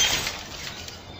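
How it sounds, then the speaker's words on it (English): A glass coffee table smashing, a sharp bright crash at the start that decays into a scattered tinkle of falling shards, moderately loud and heard alone. "Now a stylish glass coffee table."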